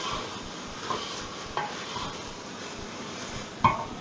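Onions frying for mince in a pan, a faint steady sizzle with a few soft clinks and stirring knocks, the loudest near the end.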